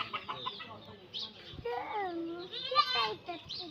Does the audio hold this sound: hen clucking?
yes